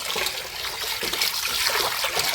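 Bombil (Bombay duck) fish washed with flour in water give a close, continuous splashing and trickling with small sloshes, steady throughout and without speech.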